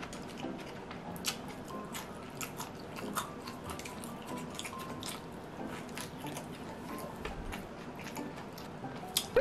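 Someone eating a homemade kimchi pancake with canned ham, close to the microphone: steady soft chewing with moist squishes and light crunchy bites, quiet and with no talking.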